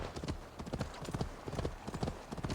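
Hooves of a white horse gallop in a rapid clip-clop rhythm inside the Assassin's Creed Valhalla game world, close and steady across the whole stretch, with no voice over it.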